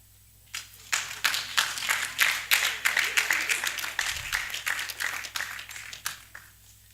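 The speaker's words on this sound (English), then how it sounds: "A round of applause for Ebenezer Ayi." A conference audience at an annual New Year School gives sustained applause, a dense run of steady, rapid claps close by that continues for several seconds, with a low hum underneath.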